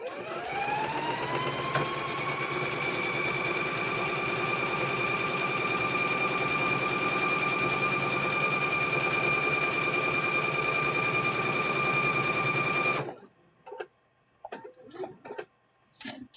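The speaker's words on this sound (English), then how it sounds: "So let's go ahead and stitch these together." A sewing machine stitches quilt squares in one long, steady whirring run that rises in pitch at the start and holds evenly before stopping, followed by faint scattered handling sounds.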